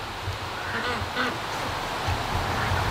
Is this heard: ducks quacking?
yes